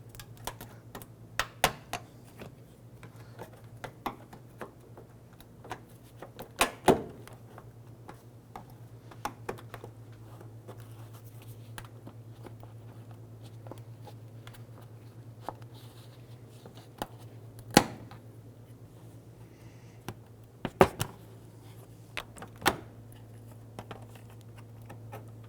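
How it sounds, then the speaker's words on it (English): Plastic push pins being pried loose with a trim removal tool on a 2004-2009 Dodge Durango during a fog light replacement; sparse sharp clicks and snaps, a few louder pops, spread over a steady low hum. "Using our trim tool remover, we're going to go ahead and remove these plastic push pins"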